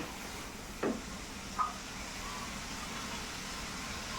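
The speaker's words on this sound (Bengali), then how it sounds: "মশলাটা আবারও ভালো করে কষিয়ে নিচ্ছি।" Spice masala with ground coriander frying and being stirred in a pan for a fish oil-jhal, a low steady sizzle with two brief scrapes of the spatula, close and quiet.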